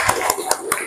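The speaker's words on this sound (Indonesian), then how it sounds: "Tepuk tangan dulu untuk kelompok 2." Classroom clapping for a student group, a few quick rhythmic hand claps with light chuckles in the background.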